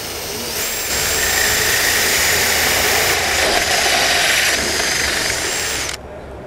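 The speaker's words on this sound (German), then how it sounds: "Die Lochsägenaufnahme ist mit einem Zentrierbohrer ausgestattet, mit dem ein punktgenaues Anbohren kein Problem ist." A FAMAG hole saw with a centering drill bores into a workpiece, a loud, steady high whine holding for several seconds after spin-up, then cutting off abruptly near the end.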